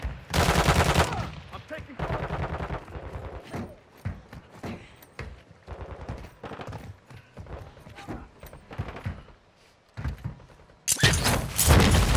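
Gunfire in the video game Call of Duty DMZ, with sharp bursts of automatic shots and scattered single cracks repeating through the scene, loud and close, opening and closing with heavier volleys.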